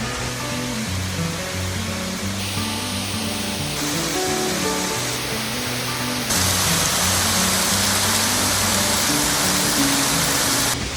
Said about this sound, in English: there's no other way around it now but just to walk down through falling water.